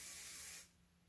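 A curl spray hair styling product is released in one short, close, loud hiss that cuts off abruptly, leaving faint room quiet.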